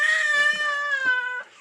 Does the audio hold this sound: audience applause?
no